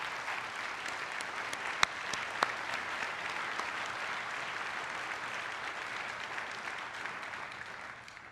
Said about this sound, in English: Let's give a round of applause for our Innovation Award winners.